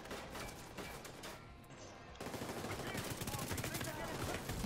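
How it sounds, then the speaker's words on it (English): Gunfire in Tom Clancy's The Division 2, rapid automatic bursts and crackling shots, briefly dropping off before a louder, denser volley resumes near and continuous, with faint talk underneath. "He's shooting me."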